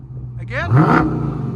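A 2013 Dodge Charger SRT8 with a 6.4L HEMI V8 and Jones JFP mufflers gives a single short, throaty rev that swells and drops, close by, with a voice over the engine.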